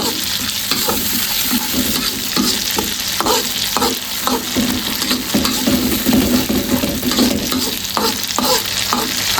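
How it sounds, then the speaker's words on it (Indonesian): Balado spice paste stir-fried in a pan, a steady loud sizzle broken by repeated scraping and stirring strokes of a spatula, close and continuous with no talk. "Gongso dulu sampai bumbunya ini matang dulu ya teman-teman"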